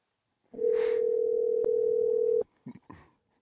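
A steady telephone dial tone sounds for about two seconds while a call is placed, clear and close, followed by a few short clicks and bursts.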